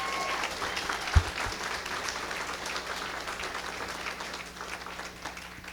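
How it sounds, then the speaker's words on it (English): An audience at an early college graduation breakfast applauds, a sustained wash of many hands clapping that holds steady and slowly tapers, with a single low thump early on. "So let's give her a huge round of applause."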